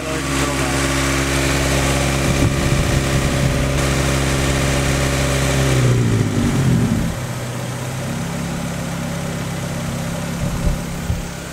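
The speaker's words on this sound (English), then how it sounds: "Now it's idling perfectly normal." A car engine idles with its idle control valve unplugged: a steady, close mechanical drone that shifts pitch and settles midway, then holds a smooth, even idle to the end.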